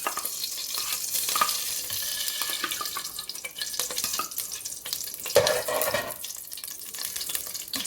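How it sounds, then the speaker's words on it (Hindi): Dry fruits fry in desi ghee in a pot that was first used to boil rice, giving a continuous hissing sizzle broken by occasional scrapes of stirring. "इसको हम फ्राई कर देते हैं अच्छी तरह से।"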